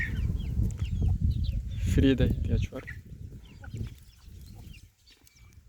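Mixed-breed coop chickens and roosters being fed, with busy overlapping clucks and squawks up close and one louder crowing-like call in the middle, while someone talks over the flock throughout.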